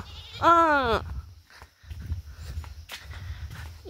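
A goat gives a single clear, wavering bleat close by, followed by shuffling movement and faint farmyard noise.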